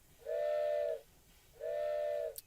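Two long, steady blasts of a steam whistle in the game Dinkum, each lasting under a second with a short gap between, loud and clear with no voices.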